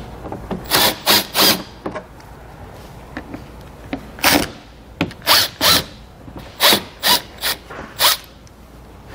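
A power drill backs Phillips head screws out of a car's underbody panel in a series of short, sharp whirring bursts with brief pauses between, close and loud with no talk.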